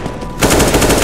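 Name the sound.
gunfire in the video game CS:GO Zombie Escape mod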